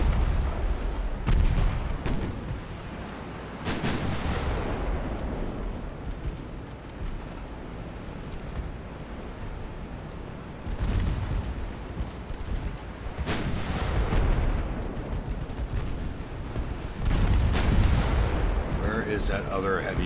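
Warship naval guns booming in the 1890-era naval battle game Ultimate Admiral: Dreadnoughts, heavy muffled artillery blasts rolling over a constant wind-like roar, with several louder salvos spread through the scene.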